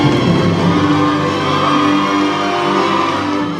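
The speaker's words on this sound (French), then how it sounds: "Annabelle Varane est accueillie en triomphe sous un déluge d'applaudissements." Crowd cheering and whooping as a new Miss Nord-Pas-de-Calais 2018 is crowned at a beauty pageant, a loud, dense, unbroken roar of shouts and applause from a large hall audience.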